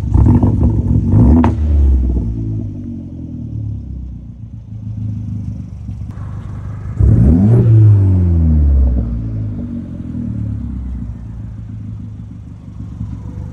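An Abarth 500 engine runs while billowing smoke after a cylinder head fault, with a loud steady rumbling idle close by and two surges of revving that rise and fall, ending in an uneven, clattery idle.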